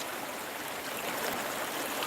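Fast-flowing stream water at a gold prospecting spot, a continuous loud rushing and splashing wash close by, steady for the whole brief moment with no talking.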